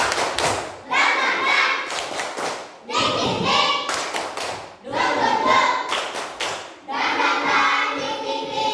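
A class of children performs the 'tepuk semangat' clapping routine, rhythmic bursts of group claps and thumps in several phrases, mixed with chanting voices throughout.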